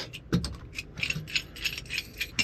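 Ratchet with a 14 mm socket loosening clamps on an inflatable truck camper shell: rapid, close clicking of the ratchet pawl in quick repeated strokes, with a few louder knocks near the start.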